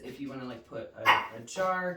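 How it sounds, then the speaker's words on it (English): A household dog gives a few short barks and yips in quick succession. They sound fairly close and come in under a person who keeps talking through them. "that's our dog"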